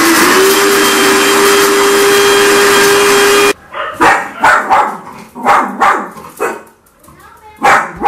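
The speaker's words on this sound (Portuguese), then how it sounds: "Eu vou passar ali no liquidificador" A blender grinds garlic with other ingredients in a loud, steady whir that runs for a few seconds and then cuts off, followed by a person talking.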